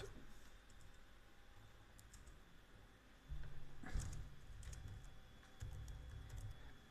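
Someone types a page title on a computer keyboard, soft close key clicks in short bursts over a quiet background.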